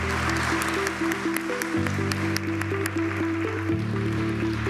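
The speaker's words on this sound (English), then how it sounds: "Let us please give our panel a very warm round of applause." An audience at the OPEC Fund Development Forum 2024 applauds a panel. The steady, even clapping fills the whole stretch over sustained tonal music.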